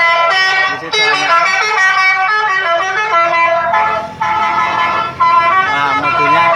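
Telolet electronic horn fitted to a Suzuki APV car, blaring a loud, continuous multi-tone musical melody of rapidly changing notes, close up, with only brief dips in the tune.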